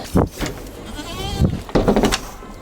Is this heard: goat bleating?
yes